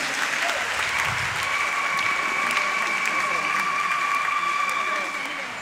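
Sustained applause from a congregation at a Catholic SMA priestly ordination, honoring newly ordained priests; steady, dense clapping fills the whole stretch, fairly loud and even, with a faint tone running underneath.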